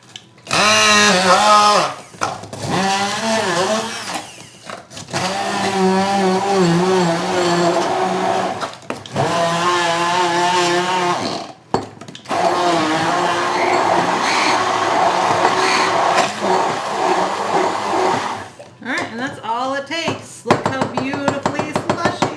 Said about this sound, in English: Then we're going to take a hand blender and mix this up.